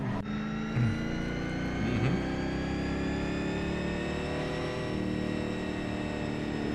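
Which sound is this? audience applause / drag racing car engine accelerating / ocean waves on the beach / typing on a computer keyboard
drag racing car engine accelerating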